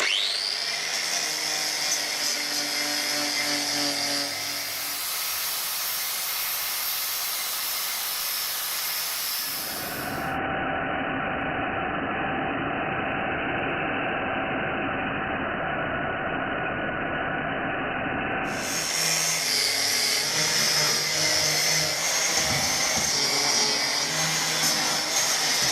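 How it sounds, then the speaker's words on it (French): An angle grinder fitted with a sanding flap disc strips steel on a combine harvester cutting-platform part, a loud sustained whine that shifts pitch as it bites and eases off the metal, with no talking. "je vais utiliser une meuleuse avec un disque spécial qui sert à poncer"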